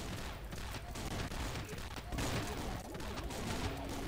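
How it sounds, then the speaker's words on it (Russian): A shotgun fires repeatedly in the video game Swamp Attack, a dense run of overlapping gunshots under busy game sounds and music, moderately loud throughout. "Хорошо хоть на дробовике бесконечные патроны"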